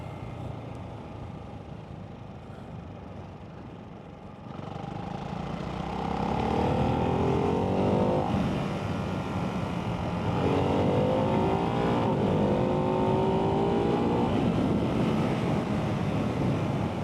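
A 2024 Ducati Hypermotard 698 Mono RVE single-cylinder motorcycle pulls away in third gear, its engine note rising over heavy wind rush as it accelerates steadily, loud and continuous with no talking.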